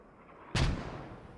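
A single heavy mortar blast in the war game Post Scriptum, a sudden booming thud after a quiet ambient lead-in, its rumble fading slowly over the next second.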